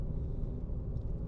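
A car's engine hums in a steady low rumble while being driven along a real driving test route in Airdrie, the throttle reopened as the road clears; close and continuous, with no one talking.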